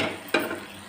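Roasted vermicelli dropped into hot ghee in a pot gives a short burst of sizzling with a light clatter of stirring, close and fairly loud.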